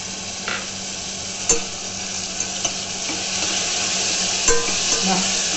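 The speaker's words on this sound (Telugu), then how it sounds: "ఇప్పుడు చింతపండు గుజ్జు కూడా వేస్తాను." Tamarind pulp goes into a hot tempering of oil and spices for dum pulihora, giving a steady, fairly loud sizzle and frying hiss with occasional stirring clinks.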